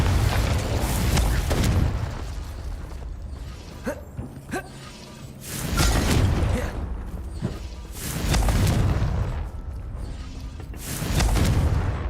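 Incendio fire blasts and Confringo explosive spell blasts in the Hogwarts Legacy video game on maximum difficulty, loud bursts with crackling debris arriving in repeated waves, quieter pauses between them.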